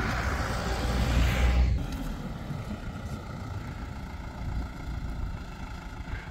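A tractor in a sorghum field rumbles at a steady low pitch, fairly loud at first and then settling into a continuous engine drone with outdoor background noise.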